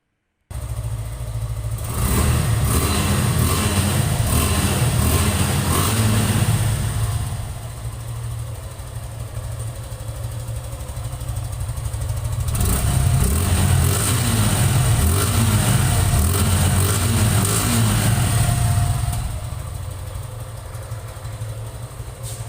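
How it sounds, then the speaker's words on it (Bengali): A 2024 Suzuki Gixxer naked-version motorcycle engine running near the microphone: a steady idle broken by two longer revving bursts, with no talking. "ভিউয়ার্স, বাইকটির সাউন্ড কোয়ালিটিটা একটু দেখি,"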